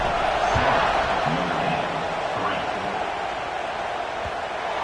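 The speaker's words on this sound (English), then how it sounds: "this crowd is buzzing after that last score" A stadium crowd in a college football video game buzzes after a score, a dense continuous roar of massed voices with a low commentator voice under it.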